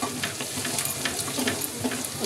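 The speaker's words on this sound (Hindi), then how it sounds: "प्याज हमारी भून चुकी है, हम एक चम्मच हल्दी डालेंगे" Onions that have already been fried sizzle steadily in a pan as a spoonful of turmeric is stirred in, a dense, continuous crackle with no talking.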